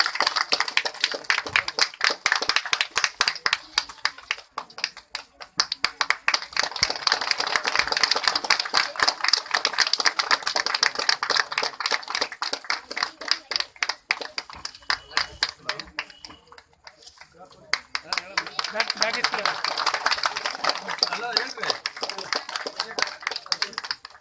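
Audience applause at a monthly magazine release ceremony, dense rapid clapping that swells and fades in several waves, with a brief lull in the middle before another burst.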